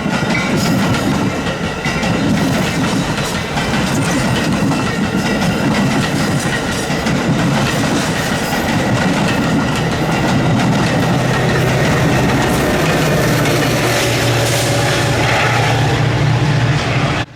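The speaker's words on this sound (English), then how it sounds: "film this Metro train" A Metra commuter train on BNSF's Chicago line rumbles steadily past for the whole stretch, a dense low roar with rhythmic wheel clatter and a faint metallic whine, close and loud.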